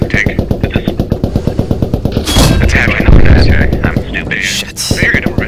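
Heavy gunfire from a Churchill tank in the Post Scriptum video game, aimed at a half-track: a steady rhythmic rattle of rapid shots under engine rumble, then louder booming blasts, close and dense.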